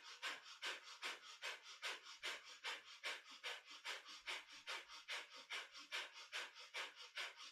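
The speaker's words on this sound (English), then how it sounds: "So breath of fire is our panting breath through the nose." Rapid breath of fire during a kundalini yoga kriya: quick, even panting breaths through the nose, about three per second, close and steady with no talking.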